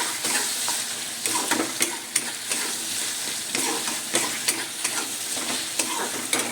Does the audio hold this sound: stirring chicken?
yes